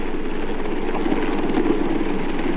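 A helicopter hovers during a jungle rescue where survivors are winched up, producing a steady, heavy rotor and engine drone with a faint rhythmic chop. It is loud and continuous, with no speech.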